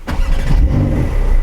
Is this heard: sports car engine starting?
yes